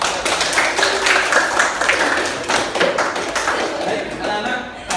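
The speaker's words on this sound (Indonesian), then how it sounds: "Oke, tepuk tangan." Students in a classroom clap their hands together after a countdown, a dense, steady patter of many claps filling the room, with some scattered taps and thumps mixed in.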